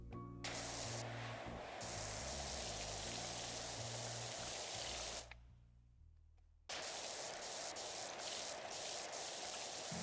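A pressure washer in the PowerWash Simulator video game sprays in a loud, continuous hiss, cutting out briefly to a quieter lull before the jet resumes at full strength.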